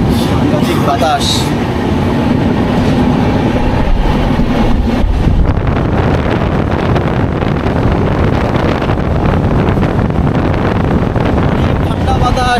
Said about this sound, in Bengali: কিন্তু বাইরে প্রচুর বাতাস, ঠান্ডা